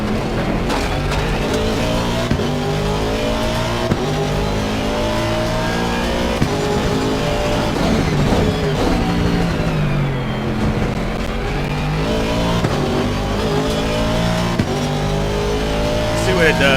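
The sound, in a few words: AMG race car engine revving, Assetto Corsa Competizione video game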